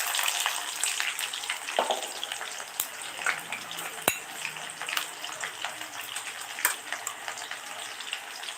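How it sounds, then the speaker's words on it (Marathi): Mustard seeds, cumin and onion frying in hot oil for a drumstick curry, a dense crackling sizzle with scattered sharp pops and spits, steady and close throughout. "तेल आपण तापलेले आहे त्यामध्ये आपण मोहरे टाकायचे आहे जिरे घालायचे आहे नंतर कांदा घालायचा आहे"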